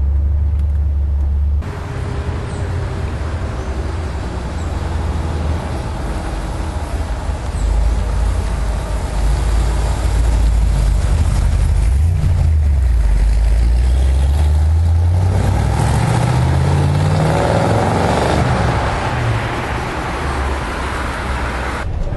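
A Dodge Challenger R/T with a 440 V8 six-pack and manual gearbox drives along, its deep engine rumble steady and loud throughout, rising in pitch through the gears.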